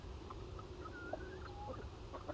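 Chickens cluck softly outdoors on a hot evening, a few short calls scattered over a steady hiss of insects and background ambience, fairly distant and faint.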